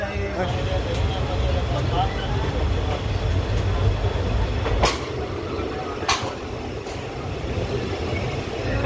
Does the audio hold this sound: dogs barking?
no